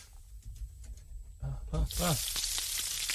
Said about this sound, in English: We'll leave the bacon sound effect on